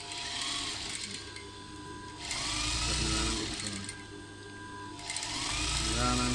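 A sewing machine stitching the lining of a prince-cut blouse, running in three steady whirring bursts with brief slowdowns between them, close and loud.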